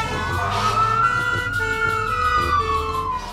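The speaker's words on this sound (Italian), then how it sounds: "Guardate, arriva un'ambulanza." A cartoon ambulance siren wails in a rising and falling sweep, loud and close, over a bed of upbeat children's song music with no talk.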